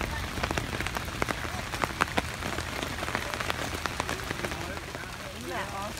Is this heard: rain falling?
yes